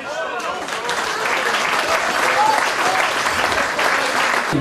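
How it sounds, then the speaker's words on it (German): Dense, sustained applause from a crowd at a benefit ski race, honoring the event helpers and bar staff; a steady wash of many hands clapping, with voices mixed in. "Herzlichen Applaus!"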